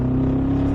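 Mercedes-AMG G63 engine rumbling with a steady low drone and a strong sustained tone, loud and close, alone for under a second with no talk.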